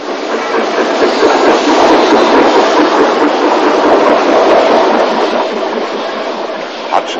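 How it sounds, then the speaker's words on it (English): Narrow gauge steam locomotive number 12 Hutchinson, built in 1908, pulls coaching stock out of carriage sidings, giving a loud, steady, broad rumble with faint rhythmic clatter throughout. "number 12 Hutchinson, dating from 1908, is pulling out stock from the carriage sidings"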